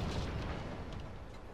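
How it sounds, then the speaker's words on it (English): Explosions in the Middle-earth: Shadow of War video game, a heavy rumbling burst of booms that blend into one dense low roar, sustained and loud throughout. "I heard a bunch of explosions"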